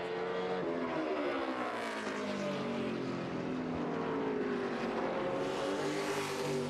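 A NASCAR stock car screams past on a qualifying lap at the 2016 Goody's Fast Relief 500, its engine whine rising and falling steadily as it runs the track, moderately distant.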